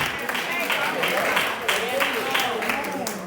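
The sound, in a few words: congregation clapping hands in praise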